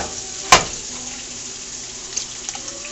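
Two eggs crack into a skillet beside pork chops with one sharp tap, followed by a steady, even frying hiss and a few faint clicks.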